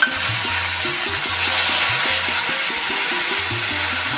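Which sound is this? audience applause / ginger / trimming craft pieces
ginger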